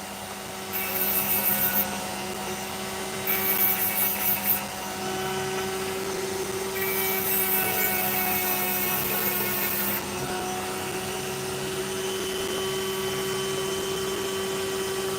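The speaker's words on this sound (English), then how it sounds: "I'm continuing to nick bits out of it with the speed of this drill." A high-speed drill grinds an opal stone with a loud, steady whine that runs throughout, and brief higher-pitched bursts come in as the bit bites into the stone.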